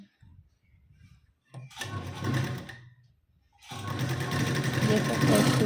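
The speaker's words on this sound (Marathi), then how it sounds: "1/2 इंचाची शिलाई मार्जिन घेऊन मी इथं टक्सला स्टिच करून घेते" An electric sewing machine stitching tucks on a blouse with a half-inch seam margin. It runs in two loud, close, whirring bursts after a quiet start that holds a low murmur.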